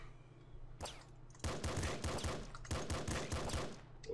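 Rapid machine-gun bursts fire in the top-down shooter Nuclear Throne, two long dense volleys of clattering shots under a low steady game hum, preceded by a brief sharper burst.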